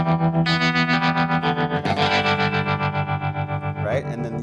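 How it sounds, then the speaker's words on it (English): Electric guitar played through a Strymon Flint pedal set to spring reverb with tremolo, giving loud, sustained chords that pulse rhythmically and wash into a splashy, echoing tail, with no voices over it. "we'll go back to maybe more of a spring reverb setting"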